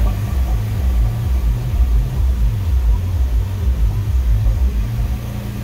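A 2006 Porsche 911 Carrera S flat-six idles close by after starting, with a steady low rumble and a lumpy, pulsing rhythm that holds even throughout.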